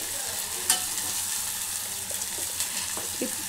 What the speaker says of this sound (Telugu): ఈ అల్లము కొంచెం పచ్చి వాసన పోయేటట్టు వేగాలి।